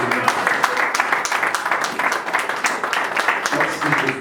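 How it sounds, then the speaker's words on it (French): A church congregation claps in acclaim during a French-language service, a loud, continuous burst of many hands with sharp individual claps throughout, a voice faintly mixed in under the noise. "On acclame pour la parole de Dieu."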